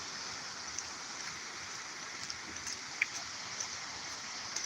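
Steady broadband rush of the Rio Grande River in Jamaica, heard from a riverside path as a constant, fairly faint roar with a few small ticks and knocks scattered over it.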